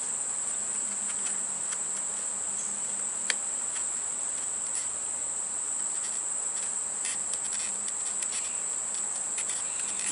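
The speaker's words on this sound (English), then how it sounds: "Get a couple bees, put them in there." Honeybees buzzing steadily inside a container during hive work, a dense continuous hum with a high constant whine over it and no talking.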